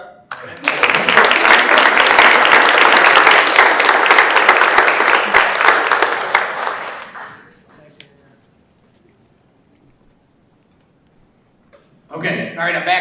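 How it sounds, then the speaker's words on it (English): An audience at a school partnership awards breakfast breaks into loud, dense applause that swells for several seconds, fades to near silence, then starts again briefly at the end. "Everybody clap."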